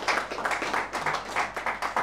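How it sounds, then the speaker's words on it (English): A small audience claps for a question at a relationship talk, a scattering of hands producing uneven, quick, fairly close claps that rise and dip in bursts across the moment. "I feel like saying we should clap for that question first."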